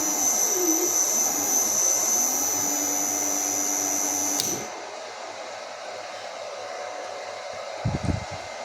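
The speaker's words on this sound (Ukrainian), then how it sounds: "вмикаю, пішов працювати перший двигун" A steady high-pitched electric whine runs for about four and a half seconds, then drops abruptly to a lower, quieter hum with a few soft thumps near the end.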